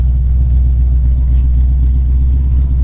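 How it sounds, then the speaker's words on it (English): A 1950 Ford Custom Deluxe with a 302 four-barrel V8 runs steadily up close, its deep, loud, even rumble holding throughout with no voices over it. "Let you hear it run here."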